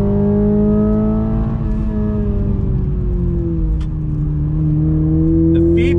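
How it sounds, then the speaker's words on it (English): A 2021 Toyota Supra with the 2.0-litre four-cylinder turbo pulls hard at full throttle, its engine note loud and steady with a rising then settling pitch through a gear change, heard from inside the cabin. "One last time on throttle. I tell you, that kick it gives you from first to second is quite impressive."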